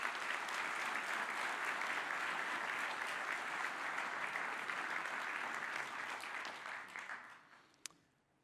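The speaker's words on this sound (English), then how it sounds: "I would like you to put your hands together and give them a round of applause" A room full of people at an organization's opening remarks breaks into steady, full applause that holds for several seconds, then thins and fades out, with one last clap near the end.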